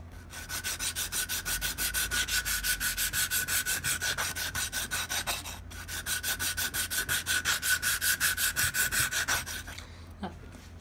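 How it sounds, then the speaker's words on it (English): Sandpaper rubbed back and forth along the edges of a handmade swimbait held in a vise, a steady rapid rhythm of close, scratchy strokes with one brief pause midway. "So I'm going to keep sanding away on this thing"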